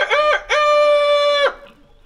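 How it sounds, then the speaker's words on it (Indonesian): A rooster crows loudly and close by, giving a short opening note and then one long, ringing, sustained call that cuts off cleanly. "pagi hari ayam pun berkokok."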